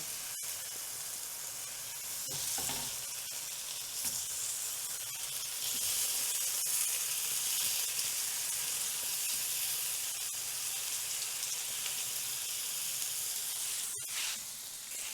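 Slices of beetroot fry in ghee with spices, giving a constant close sizzle and hiss with occasional soft crackles and no talking.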